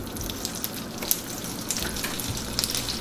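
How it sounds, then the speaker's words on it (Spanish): Butter melting in a pan for green beans gives a steady, close sizzle with fine crackling throughout. No one speaks over it. "Agregamos la mantequilla."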